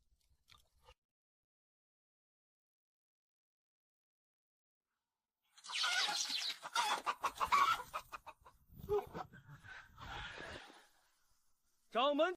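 An old hen clucks and squawks in a burst of agitated calls after a long silence, fairly close, with a brief sound at the very end.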